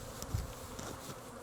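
Honey bees hum around a hive frame, a close, continuous buzzing that wavers gently in pitch and loudness.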